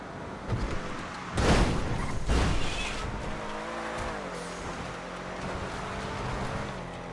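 In a GTA video game, a car with a damaged engine runs. Two rough bursts of revving and skidding come first, then a droning engine note rises and falls in pitch, close and moderately loud.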